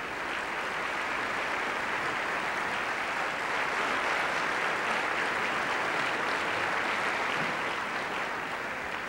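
Warm, sustained audience applause fills a concert hall after a choral performance of a carol ceremony, a steady dense wash of clapping with no talk.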